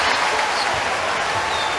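A basketball crowd in a college arena during Marquette at Cincinnati cheers and applauds, a loud, dense, steady roar of clapping and voices.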